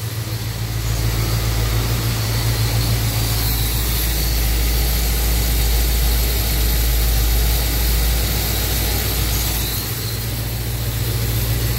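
A car engine fitted with a Holley carburetor idles steadily around 800 RPM, a loud, continuous low rumble with no break and no one talking over it.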